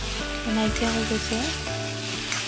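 Yam and fish curry sizzles and fries loudly in a pan while being stirred, a steady close crackle throughout, with a voice speaking briefly over it.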